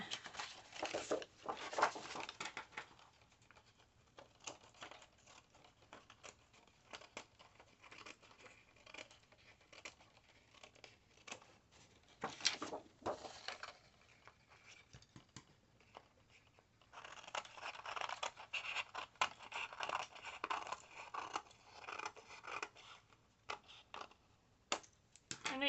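Scissors trimming paper strips, faint close snips and crinkling paper handling in irregular bursts with quiet pauses between.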